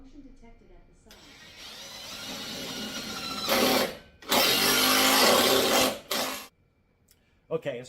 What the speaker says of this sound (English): I'm going to use a, basically kind of like an impact gun